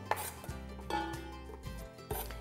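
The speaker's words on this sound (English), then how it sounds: "really lovely aromatic basil, and we're just going to roughly chop it up" A knife roughly chops fresh basil on a board for a rustic Italian tomato salad, a few sharp, uneven thuds spaced across the moment with no talk.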